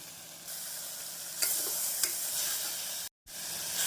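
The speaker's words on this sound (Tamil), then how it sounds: "மசால் பொடி நன்றாக கிளறி விட்டு நாம் தேவையான அளவு உப்பு சேர்த்து விடலாம்" Masala and salt are stirred through a chickpea curry in a pan, giving a steady low sizzle with a couple of soft scraping knocks and a brief dropout near the end.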